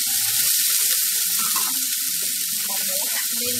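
Potatoes and mushrooms stir-fry in a pan for a vegetarian dish, a steady loud sizzle with faint scraping and stirring underneath, no voices.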